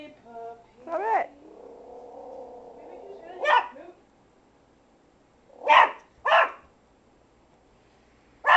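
A puppy barks angrily at something outside, giving a run of loud, close yaps and drawn-out growling barks with short pauses between bursts, alone with no talk over them.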